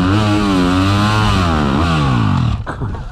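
A motorcycle engine revs hard on open throttle while struggling through soft sand at a mine: a loud, close, buzzing whine that holds and wavers in pitch, then cuts off abruptly near the end.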